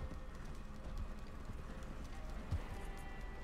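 Horse hooves clip-clopping in a Western video game, a steady rhythm of thuds over constant ambient noise and background game sounds, with a voice talking over parts of it.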